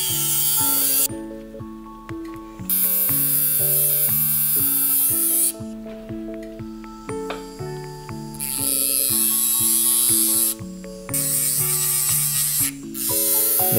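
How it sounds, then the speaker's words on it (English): Sintered diamond ceramic-bonded wheel spinning at about 8,000 RPM, removing the sprue from a VITABLOCS Mark II ceramic dental block. The grinding whine is loud and steady, and it drops out briefly several times as the wheel is lifted off and set back on. "using the DiaTrim Sintered Diamond ceramic bonded wheel to remove the sprue, and we're going to go just around 8K RPM"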